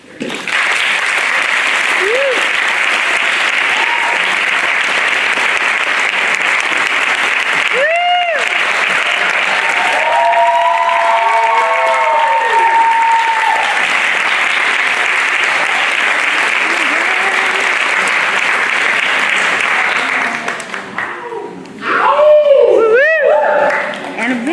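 A theatre audience applauds as the play ends, sustained clapping filling the room for over twenty seconds, with brief voices and shouts rising near the end.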